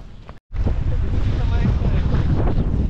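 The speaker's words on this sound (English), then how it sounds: "there's quite some wind and waves" Strong wind buffeting the microphone at a beach, with a constant roaring gust and a dull wash of waves beneath it, starting after a brief dropout and staying loud and unbroken to the end.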